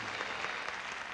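An audience gives a short burst of applause for the second-place winners at a prize handout. The dense, even clapping stays at a moderate level throughout the brief moment.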